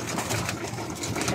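Fancier pigeons cooing at their loft during a break in training, a soft continuous murmur of several birds close by, with no talk.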